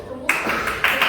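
A church congregation breaks into clapping, a burst of applause starting after a short quiet lead-in and swelling again near the end, mixed with voices.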